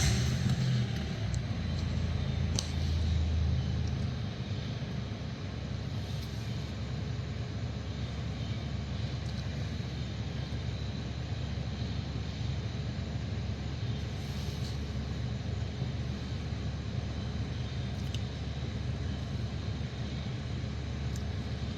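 Car engine with an oil pressure warning fault, started warm and left idling, a steady low rumble holding even and constant throughout with no revving and no talk.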